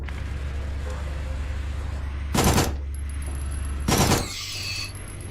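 A machine gun in the horror game Signalis fires in two short, loud bursts of rapid shots over a constant low droning background hum.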